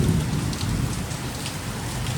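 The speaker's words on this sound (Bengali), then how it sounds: "ওহ, কি সুন্দর একটা বৃষ্টি।" Steady rain pours down outside near a house surrounded by green trees and plants, a dense, even hiss of drops striking surfaces with a low rumble underneath, constant throughout.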